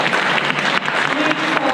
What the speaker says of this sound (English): Please hold your applause until she's done.